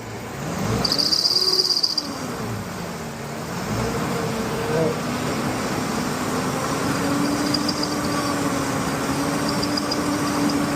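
A 2006 Ford E-450 with the 6.8L engine revving up toward 2,000 RPM during a charging system check, a rising then steady engine hum with a whining tone, fairly close and continuous, with brief talk.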